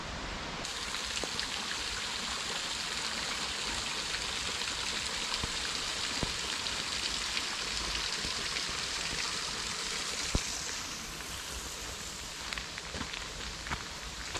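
Steady rain falls along the West Highland Way near Loch Lomond, a continuous dense hiss of drops with occasional sharper patters, moderately loud and unbroken throughout, with no voices.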